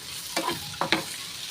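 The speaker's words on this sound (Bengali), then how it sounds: "আর ঢাকা দিয়ে দিয়ে আমি ভাজছি, তাই জন্য আলুটাও ভালোভাবে সেদ্ধ হয়ে গেছে।" Potatoes frying in a covered pan, a steady soft sizzle broken by a few quick scraping stirs close by, with no voices.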